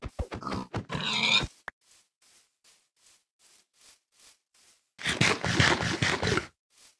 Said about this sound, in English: Pig for food.